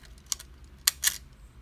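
A Soviet-era LOMO Lubitel 166 twin-lens reflex film camera's shutter gives a few soft, quick mechanical clicks, close by and quiet against a faint room background.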